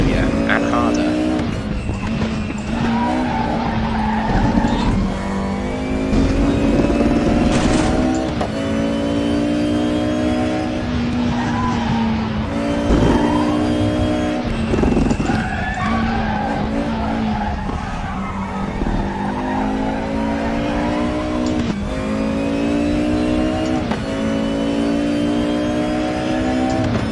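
A DTM 92 Mercedes race car in the RaceRoom racing game screams continuously through its gears, with repeated rising revs, shifts and tire squeal, loud and steady throughout with no talking.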